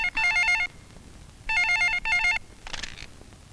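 An office telephone at a construction company rings in three sharp electronic bursts, a long one and then two quicker ones, followed by a brief fainter rattle, all fairly close and with no talking.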